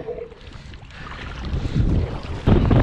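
A cold winter headwind roars across the microphone while kayaking around Mersea Island, with rushing gusts building louder toward the end over faint water noise.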